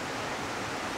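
Waterfall in Tarija, Bolivia, a steady broadband rush of falling water, continuous and fairly soft, with no voices over it.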